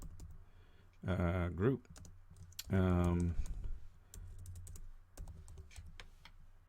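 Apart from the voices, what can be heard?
typing on a computer keyboard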